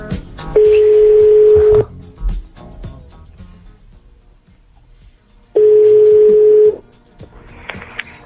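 Two long steady telephone tones, each lasting over a second, sound loud and clear a few seconds apart during a radio morning-show call-in, with brief quiet studio noise between them.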